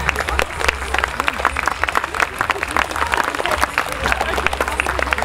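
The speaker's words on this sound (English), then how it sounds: "A big, big round of applause." Outdoor horse show audience clapping for riders after a jumping event, a moderate burst of applause with some crowd murmur and a low rumble underneath.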